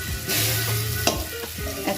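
Ground turmeric, chili, cumin and coriander fry in oil while being stirred in a pan, giving a steady close sizzle broken by scraping strokes of the spoon.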